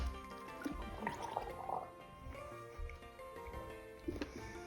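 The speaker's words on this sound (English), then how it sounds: "I spilled water all over myself." Spilled water dripping and splattering onto a person, a run of irregular small wet drips and splashes, close and fairly quiet with some faint rustling around them.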